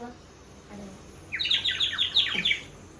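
A toy whistle gives a quick series of high, bird-like chirps and trills for about a second, over a soft background hum.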